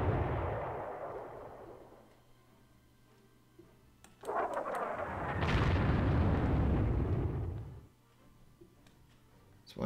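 Bombing in the strategy war game Panzer Corps: a fading rumble, then a loud sudden explosion swelling into a long roaring blast that dies away, followed by another burst starting at the very end.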